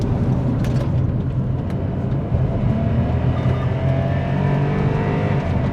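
Tuned Kia Morning turbo lapping a race circuit, its small engine droning steadily and loud throughout with a continuous close, in-car tone and faint tyre and road roar.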